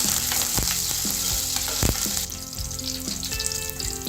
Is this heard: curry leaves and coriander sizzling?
yes